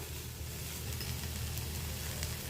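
Tomato and green chilli sizzling in a frying pan while being stirred, a soft, steady crackling hiss continuing quietly throughout.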